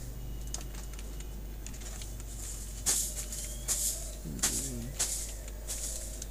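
Typing on a computer keyboard, a series of sharp, irregular key clicks with occasional louder taps, close and fairly faint over a low steady hum, with no talking.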